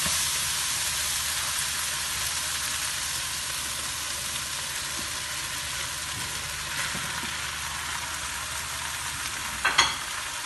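Pasta being stir-fried and tossed in a pan with chicken and vegetables, a steady sizzling hiss running throughout, with a few faint scrapes and a brief louder clatter near the end.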